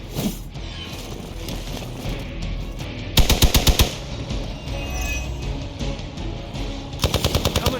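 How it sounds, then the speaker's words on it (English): Gunfire in Marvel's Midnight Suns, two quick rapid bursts of about six sharp shots each, loud and close over a steady background of game music and ambience. "Taking the shot."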